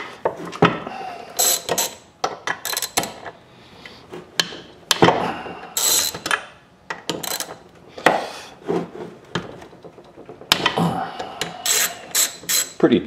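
A ratchet works on the 10 mm stator bolts of a CX500 motorcycle, making close, loud bursts of rapid clicking separated by short pauses, repeated several times.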